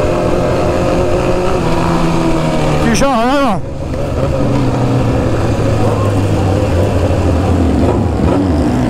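A BMW S1000RR sport motorcycle engine on a slow cool-down ride, a loud close droning rumble with a quick rev rise and fall, someone talking over it.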